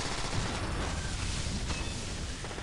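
An EMP shotgun fires in Transformers: War for Cybertron amid dense, loud, continuous combat noise of blasts and explosions, with no clear gaps between them and no speech.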